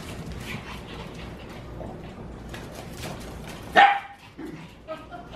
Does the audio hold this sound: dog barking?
yes